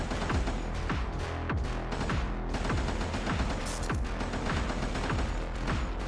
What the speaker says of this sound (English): Let's fire off our laser.